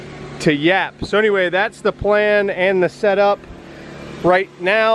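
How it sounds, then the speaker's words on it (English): A vacuum cleaner drones steadily in the background during a prep-for-sale detail of a 2013 BMW 328i, running from a Briggs & Stratton P2200 generator, mostly buried under someone talking close to the mic. "I'm sorry about the vacuum noise"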